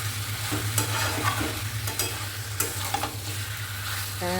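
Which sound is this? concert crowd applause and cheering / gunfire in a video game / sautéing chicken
sautéing chicken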